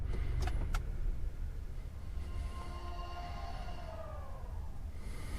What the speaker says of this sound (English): I'm going to go ahead and cut the car off now so you can kind of see the shut off animation